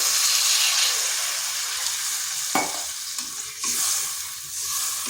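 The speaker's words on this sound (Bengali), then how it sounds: "এখানে দিয়ে দিচ্ছি জল" Water hits a hot pan of frying chana dal and eggplant, giving a sharp surge within a continuous close sizzle while stirring scrapes along underneath.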